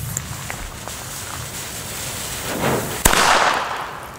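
One loud, close crack from an El Gato Masclet firecracker bursts out after a few seconds of quiet outdoor background, followed by a fading rumble.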